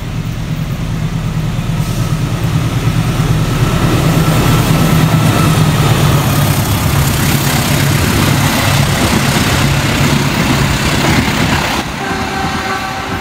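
A train engine at Sudimara station, part of the 1987 Bintaro collision in Indonesia, rumbles steadily and loudly with a deep idling drone as it pulls away, then shifts in tone near the end.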